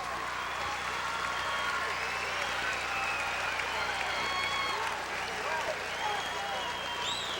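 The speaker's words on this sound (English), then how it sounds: "Daniel LeClaire's got a well-deserved standing ovation as he salutes the crowd with one finger in the air." A crowd gives a standing ovation at a state high school wrestling championship, a dense, continuous roar of clapping and cheering in a large arena, with an announcer's voice over it.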